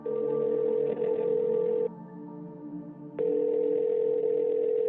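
Phone tone buzzing steadily and close, pausing briefly, then resuming at the same pitch.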